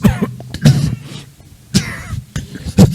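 A voice imitates coughing: four or five sharp, forced coughs spaced irregularly, close and fairly loud, with quiet pauses between.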